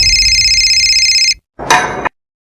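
A telephone rings with a loud electronic tone that holds for over a second, cuts to silence, then sounds again in a shorter burst before stopping.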